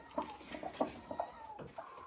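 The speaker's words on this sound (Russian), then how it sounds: "Обычно петух ждет курицу, которая снесет яйцо." Hens clucking near a rooster in a backyard flock, soft irregular clucks and murmurs, close and fairly quiet, with no talk.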